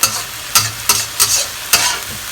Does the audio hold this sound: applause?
no